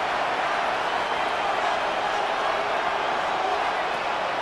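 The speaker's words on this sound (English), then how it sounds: "the Buffalo crowd being heard before 3rd down" A simulated home crowd at a Buffalo stadium roars in Madden NFL 26 during an AFC Championship game before a third down, a dense, steady wall of noise holding at the same loud level throughout.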